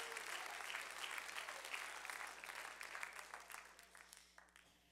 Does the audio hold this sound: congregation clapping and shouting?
yes